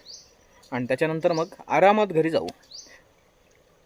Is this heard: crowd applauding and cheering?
no